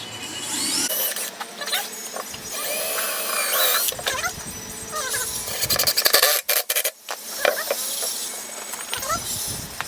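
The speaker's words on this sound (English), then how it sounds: "what I'm going to do, I'm going to pre-drill this here this way." A power drill whirs and grinds in bursts, close and loud, with speed changes and brief pauses as it pre-drills wood for a dog house.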